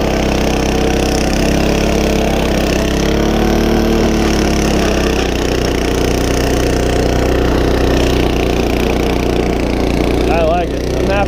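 A HORSE rototiller churns through garden soil, its engine running loud and steady close by with a continuous chugging drone, while someone talks over it.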